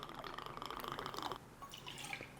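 Buffalo Trace bourbon is poured into a glass in a short, quiet trickle, ending in a few faint drips.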